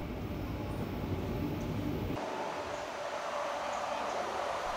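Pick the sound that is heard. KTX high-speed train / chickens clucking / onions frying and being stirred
KTX high-speed train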